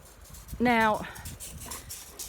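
A single high, tonal dog whimper, brief and close, followed by quieter background noise.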